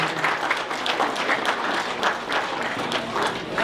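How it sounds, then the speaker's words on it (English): Clapping from a room full of people at a chamber of commerce multicultural business forum, a dense burst of applause that carries on steadily, close and lively, with no voices over it. "Let's have a round of applause for Northeastern Savings Bank."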